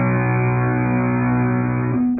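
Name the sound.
unmuted power chord on guitar, strings ringing freely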